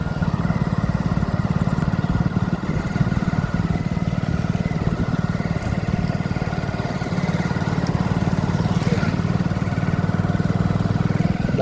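A motorcycle engine on a town street in Chotila, a steady close putter with rapid rhythmic throbbing that holds evenly for several seconds without clear rise or fade.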